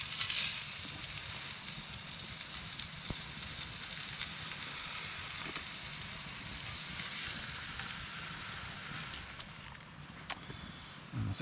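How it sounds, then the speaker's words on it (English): Food fries and sizzles on a stove inside a hot tent at a January camp on Loch Etive, a faint, steady crackling hiss with occasional small clicks and pops. "the stove will give quite as good a sizzle as usual"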